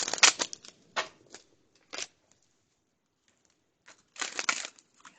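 A few short bursts of riffling paper-like clatter, separated by quiet pauses, close and crisp, like cards being shuffled.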